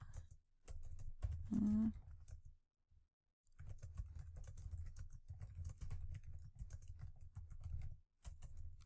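Fingers clatter across a computer keyboard in quick, close bursts of light key taps, with short pauses between runs of typing.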